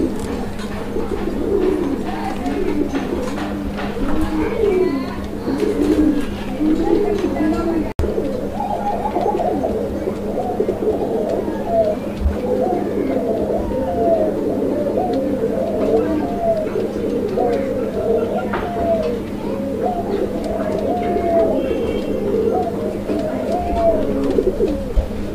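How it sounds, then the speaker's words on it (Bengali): A pair of Deshi Raj Golla pigeons coo steadily and close by, their soft rolling calls overlapping in a continuous rhythm with a low steady hum underneath throughout. "অনেক সুন্দর ডাকের একটা কবুতরের জোড়া"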